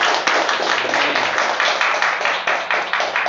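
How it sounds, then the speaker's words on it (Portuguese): A church congregation applauds with steady, dense clapping, loud and close, in an even continuous patter. "aplausos a Ele"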